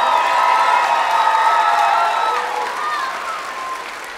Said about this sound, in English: another round of applause for the first graders